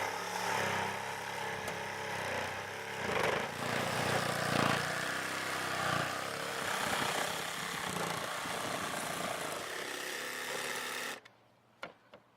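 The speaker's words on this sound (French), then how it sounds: "Découpez maintenant les voliges en utilisant une scie sauteuse." A jigsaw cuts through wooden roof battens on a slate roof during a skylight installation, a steady buzzing drone lasting about eleven seconds before stopping abruptly, followed by a few faint clicks.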